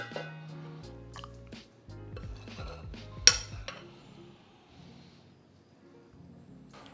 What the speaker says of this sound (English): I'm gonna spoon out some of that garlic